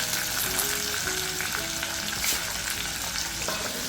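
Chopped onion and potatoes fry in a pan, a loud continuous sizzle with stirring scrapes and light clinks of a utensil, heard close with no talking.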